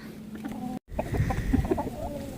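Several chickens cluck and murmur close by, short soft calls overlapping in a busy, uneven rhythm after a brief silent gap.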